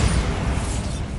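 Bombarda spell blast in Hogwarts Legacy, a dense, sustained rumbling burst with heavy low-end boom that holds steady through the short moment without fading.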